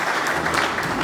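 A Christmas carol gathering of an evangelical choir's audience breaks into applause, a dense, even wash of clapping that fills the short moment at steady volume with no voices.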